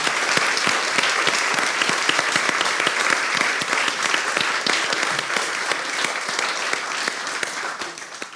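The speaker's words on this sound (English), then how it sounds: "with another round of applause for the Simon community." A large audience at a talk on empathy and homelessness breaks into sustained, dense applause, steady and loud for the full length with no voices over it.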